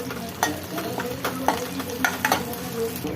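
Urad dal, dried chillies, crushed garlic and curry leaves sizzle and fry in hot oil for mango rasam, with a spoon stirring and scraping the pan in repeated clinks over a steady crackle.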